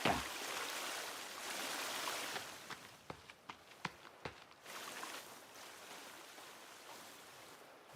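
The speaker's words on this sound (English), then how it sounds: "Waterfall" Waterfall in the video game The Forest gives a soft, hissing wash of falling water, fairly faint, swelling and fading, broken midway by a few short sharp clicks before the steady rush returns.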